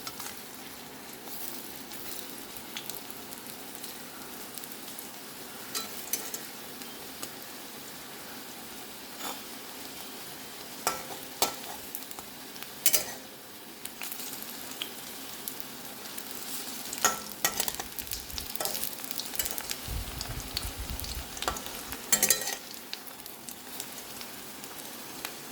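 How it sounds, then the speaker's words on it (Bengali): Sliced onions fry in a pan of hot oil for a Bengali home lunch, giving a steady, moderately loud sizzle with scattered crackles and pops that grows denser toward the end, with no talking. "আর কটা ভেজে নিচ্ছি পেঁয়াজ।"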